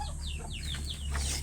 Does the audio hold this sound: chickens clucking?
yes